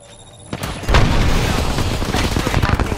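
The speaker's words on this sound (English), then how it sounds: "Shooting an Arcstar." An Arc Star is thrown in the Apex Legends video game, played on Xbox Series X. After a brief quiet start, a sharp burst hits, followed by dense, loud crackling and rumbling game effects that continue to the end.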